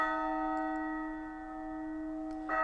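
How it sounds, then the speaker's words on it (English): The great castle bell rings out for an emergency assembly in the video game Lost Odyssey, one sustained, resonant tone with long ringing overtones that slowly decays, clear and alone. "From the direction of the castle comes the sound of the great bell."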